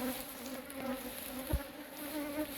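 Honeybees in a hive's top super give a faint, steady drone with a low hum running throughout and a single brief thump midway, quiet and close.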